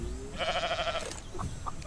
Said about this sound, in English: Oh, how I didn't miss these sheep making these crazy noises.